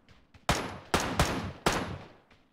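Several loud, sharp shots from a video game shootout: a few soft pops, then four heavy blasts in irregular succession, each with a decaying tail, no voices.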